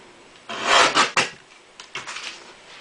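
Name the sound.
paper guillotine trimming card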